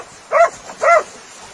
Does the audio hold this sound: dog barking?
yes